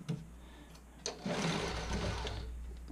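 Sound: sewing machine stitching a bra fitting sample

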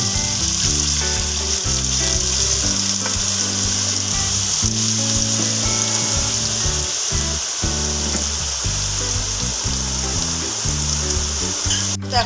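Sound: potatoes frying in a pan

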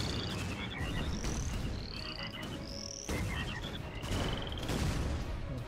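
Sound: frog croaking in video game Shellshock Live

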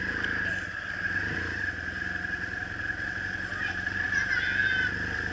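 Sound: motorbike riding off down the road

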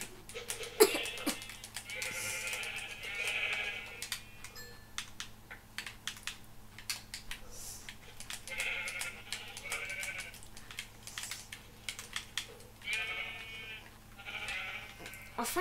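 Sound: sheep bleating

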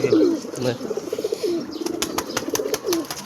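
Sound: pigeons cooing at Karim's house

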